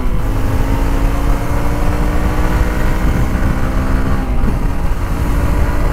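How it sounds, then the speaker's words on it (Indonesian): A 2019 Kawasaki KLX 150 BF X-Treme motorcycle engine pulls steadily under load, a loud, continuous mid-pitched drone with a slight pitch dip near the end and no talking. "Motor ini tuh narik loh."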